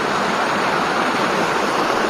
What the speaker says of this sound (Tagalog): May malaki palang ilog dito eh.